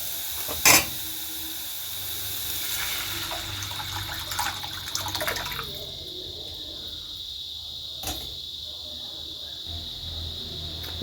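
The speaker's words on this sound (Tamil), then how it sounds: "இப்போ ரசத்துக்கு தேவையான தண்ணி இதில் சேர்த்துடலாம்." Steady trickle of water poured into a pot of tomato rasam with turmeric, with a faint background hiss and a few brief clinks, fairly close.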